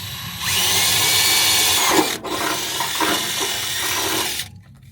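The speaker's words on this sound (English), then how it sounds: "Run our 1/8 drill bit." A power drill with a 1/8-inch bit whines steadily as it bores into metal on a C10 square-body truck, loud and close, with a brief catch midway before it winds down.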